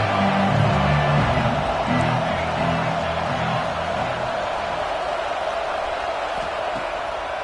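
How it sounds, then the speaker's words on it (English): Stadium crowd noise from the College Football 26 video game, a loud, sustained roar of cheering fans with a brief murmur of voices early on that settles into a steady wash of sound. "What we expected, this crowd ready to make its presence known."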